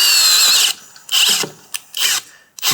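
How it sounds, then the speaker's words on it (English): A power drill speed-tapping threads with cutting wax while building a custom Yamaha Raptor 660, loud high whining bursts that start and stop several times in short pulses. "We're gonna do the ever controversial speed tapping in the drill."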